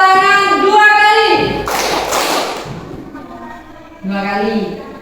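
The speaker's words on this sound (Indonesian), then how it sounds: "Tepuk tangan 2 kali." Children in a primary school classroom clap their hands together in a counting game, a dense burst of near, loud claps around the middle, with a voice speaking before and after.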